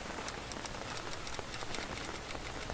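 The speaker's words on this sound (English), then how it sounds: "She sent us rain." In-game rain falls in a steady, dense patter of drops on surfaces, continuous and fairly close, with no talking.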